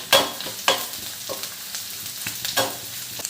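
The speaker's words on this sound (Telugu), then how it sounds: "ఆనియన్స్ వేసుకోవాలి. కొంచెం కరివేపాకు కూడా యాడ్ చేసుకోండి." Chopped onions and curry leaves fry in hot oil, a soft close sizzle broken by a few brisk stirring scrapes against the pan.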